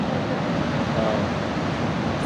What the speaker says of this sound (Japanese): やばい、波が怖い。